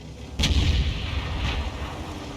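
Tank cannon fire in a tank battle video game: one sharp, booming shot with a heavy low rumble, followed by a fainter second report about a second later, no talking.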